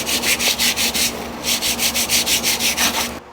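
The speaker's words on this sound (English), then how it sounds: "I'm going to take some sandpaper and just lightly scuff up the surface of this" Sandpaper lightly scuffs the shiny face of a Bosch brake pad in rhythmic back-and-forth strokes, about a dozen steady rasping passes close up with a short pause midway.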